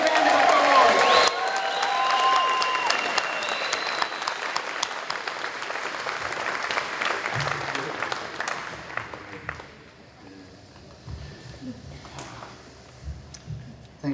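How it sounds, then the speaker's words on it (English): Sustained audience applause at the launch of a citrus orchard packing shed, loud and dense for about ten seconds before thinning into scattered claps and fading out. "Give him a big round of applause."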